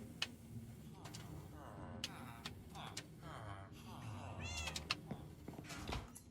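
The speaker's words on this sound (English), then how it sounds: "Stop purring at me. And you stop meowing at me." A cat in a Minecraft survival multiplayer world meows several times over a low background drone, with a few faint ticking clicks mixed in.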